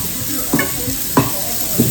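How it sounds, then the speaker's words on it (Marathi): Onion fries in a pan with a steady low sizzle, punctuated by three evenly spaced scraping stirs, close up and without speech. "तर कांदा फ्राय होऊ देऊ"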